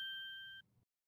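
A phone's ringtone sounds in the Phoenix Wright: Ace Attorney game, a steady electronic beep tone that holds for over half a second, then cuts off into a faint trailing murmur and silence.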